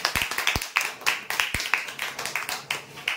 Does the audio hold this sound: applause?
yes